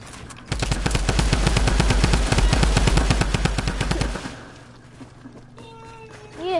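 Machine gun fire in a PS4 game, a steady rapid stream of loud, evenly spaced shots lasting several seconds before stopping, followed by quieter game sounds.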